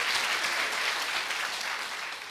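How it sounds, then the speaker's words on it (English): An audience at a TESOL convention applauds: a dense, even wash of many hands clapping, loud and sustained, tapering slightly at the end with no voices on top. "Please, a round of applause for my father."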